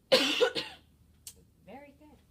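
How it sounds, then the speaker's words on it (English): A patient gives one strong, harsh cough close by, a loud burst with a quick second push, followed by a short quiet gap and brief talk from another person. "A nice strong cough."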